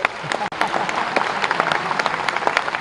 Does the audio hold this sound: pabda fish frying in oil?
no